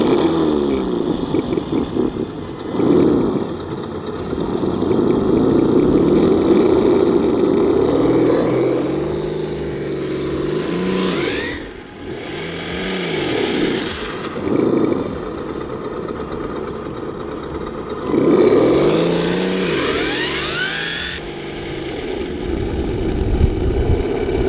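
A simulated car engine from an ESS sound simulator in a 1969 El Camino R/C car idles, then revs up and down in repeated swells, loud and close, with a rumbling, synthetic-sounding tone and no voices.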